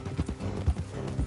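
Horse hooves clip-clop in Red Dead Redemption 2, a few close, heavy thuds in an uneven walking rhythm with faint mechanical rattling behind them.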